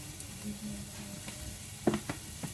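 Garlic and onion sauté in a pan for a pork liver dish with upo, giving a soft steady sizzle with a few faint clinks of stirring near the end.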